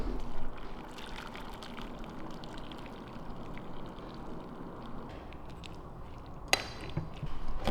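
Boiled pickling brine of dissolved salt and sugar poured over onions, a soft steady liquid trickle at close range, with a brief sharp clink near the end.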